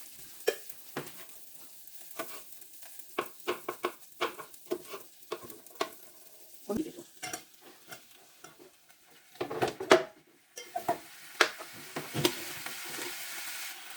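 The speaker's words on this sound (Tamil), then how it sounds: "அதையும் கொஞ்சம் உப்பு போட்டு வதக்கி விட்டுட்டு" Vegetables with salt and green chillies sauté in a pan, a soft sizzle under repeated scraping and clinking stirs at an uneven rhythm, close by and with no talking.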